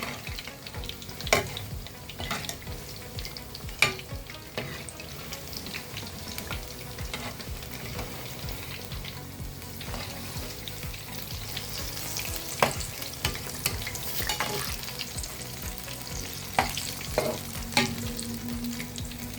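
Cauliflower frying in a pan, with a steady sizzle broken by sharp scraping and tossing knocks as the pieces are stirred and turned, close and continuous throughout.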